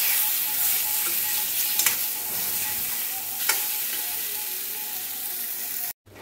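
Chicken being sautéed kosha-style in a pan gives a steady, close sizzle, with a few brief scraping stirs breaking through before it cuts off abruptly near the end.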